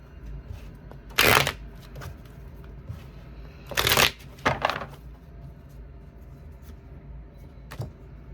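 Tarot cards being shuffled by hand in a quiet room, with three loud riffling bursts and a short final flick, alone with no talking.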